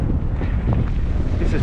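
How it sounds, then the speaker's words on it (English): Strong headwind roaring into the microphone while cycling into it on a sandy, gravelly track among jack pines, loud continuous low buffeting rumble throughout the short stretch. "Riding right into that wind."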